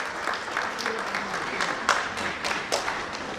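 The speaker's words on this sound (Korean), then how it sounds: "제주도의 366의 그 기적의 사건에 대해서 박수 한번 보내주시죠" Audience at a Rotary gathering applauding in a hall, a broad wash of clapping with a few loud, sharp individual claps close by, while voices murmur underneath.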